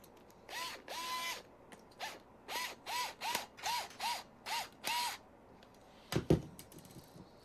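A 12mm screw is driven by hand through the bottom of a marble clock track piece, giving a rhythmic series of about nine squeaky ratcheting turns followed by a couple of sharp clicks, close and fairly quiet.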